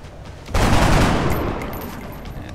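A burst of gunfire in the turn-based strategy game XCOM: Enemy Within, starting abruptly after a quiet moment, loud and dense, then fading into a lingering rumble.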